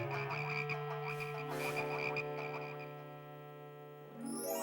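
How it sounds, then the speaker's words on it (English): Animated frogs croak repeatedly during the Moses plague story in Beginners Bible, with steady throaty croaks over a sustained musical score and a rising sweep at the end. "Make the frogs go away."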